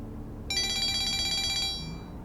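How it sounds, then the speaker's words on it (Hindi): A telephone rings in a home, one steady electronic trill lasting about a second that stops abruptly over a low background hum. "दुआ का फोन है।"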